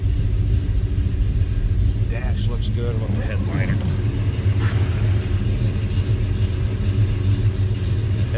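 The engine of a 1971 Chevrolet Chevelle Malibu idles with a low, steady rumble throughout while someone talks over it.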